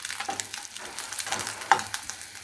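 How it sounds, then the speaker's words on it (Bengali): Chapila fish fries crisply in a pan, giving a soft, crackling sizzle with light stirring clatter and one brief sharper clink, fairly close and quiet with no talk. "এই মাছটা যদি এরকম মশমশা করে ভেজে নেওয়া যায়"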